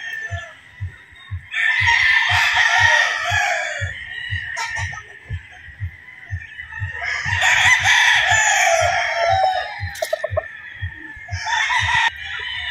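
A gamefowl stag rooster in a conditioning flying pen crows loudly and up close three times, with long strained calls separated by pauses, over a steady series of low thumping beats.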